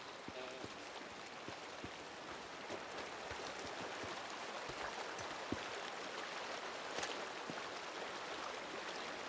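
Creek water in the Days Gone game world runs steadily and softly, a continuous faint trickle and babble with no voices over it.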